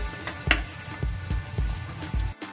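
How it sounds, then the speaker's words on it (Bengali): Fried potatoes being sautéed again in a pan for a potol and lentil curry, a steady sizzle broken by regular spatula scrapes and stirs about twice a second, close and moderately loud with no talking. "আলুগুলো দিয়ে আমি ভালো করে আরেকবার কষিয়ে নিচ্ছি।"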